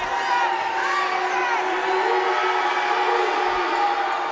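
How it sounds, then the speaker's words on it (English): A crowd at a women's college basketball game cheers and hollers during free throws, a sustained roar of mixed voices with whoops rising above it. "You can hear the crowd getting after them."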